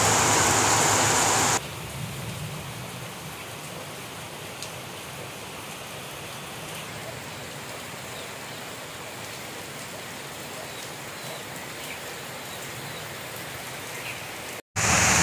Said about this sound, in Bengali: এবারে প্রবল বেগে বৃষ্টি এসেছে, এখন বৃষ্টি এস আরও জোরালো হয়েছে